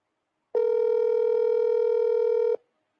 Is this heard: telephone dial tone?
yes